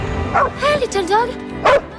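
A small dog yips and barks excitedly in a few quick, close bursts with whimpering, loud in a tense wartime gas-attack scene.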